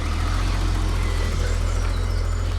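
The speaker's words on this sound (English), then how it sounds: "Standard 6-cylinder hum, very much a BMW sound this, of a certain era." A roughly 30-year-old BMW E24 6 Series with its six-cylinder engine runs in a smooth, steady hum, close and even, with no voices.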